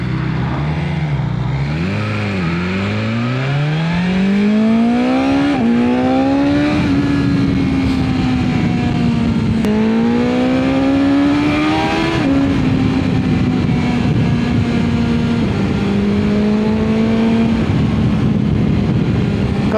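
A BMW S1000XR motorcycle accelerating hard on an open road, its engine note climbing through repeated gear changes with sustained loud revving and wind rush throughout, no talking.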